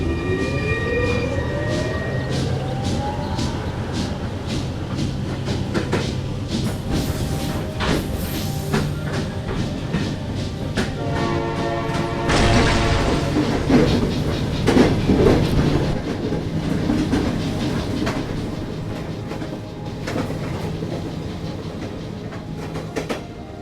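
A train in The House of Tesla game starts up and rolls along, with a loud steady rumble, rhythmic clickety-clack of the wheels, hissing bursts and metallic squeals building as it moves.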